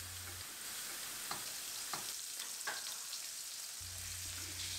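Köfte balls sizzle and crackle steadily in hot oil, with occasional soft clicks of stirring and a faint low hum at the start and end.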